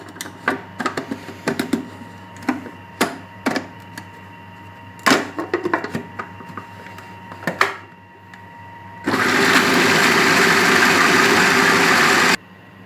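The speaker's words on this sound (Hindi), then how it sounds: "अब मैं इसको अच्छी तरह पीस लूँगी" An electric chopper grinds whole red chillies with crushed chilli, starting with a series of short, sharp pulses and then running as one loud continuous buzzing whir for about three seconds before stopping abruptly.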